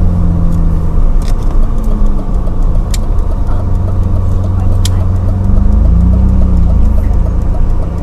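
A manual-transmission car rolls slowly through a local market street in Samut Prakan, Thailand, its engine a steady low rumble close by with faint street noise around it.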